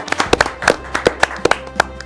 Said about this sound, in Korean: 박수로서 다 힘차게 출발하겠습니다.